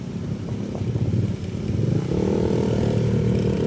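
A motorcycle taxi carries a rider through the streets of Taytay, Rizal, its engine droning steadily up close and rising in level partway through as it speeds up, with light clatter mixed in.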